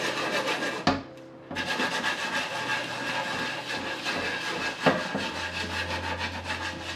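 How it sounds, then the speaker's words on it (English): Salt and a lemon slice rubbed over a wooden chopping board during cleaning, giving a continuous close scrubbing rasp with a brief pause near the start. "I sprinkle some salt and rub all over with a slice of lemon."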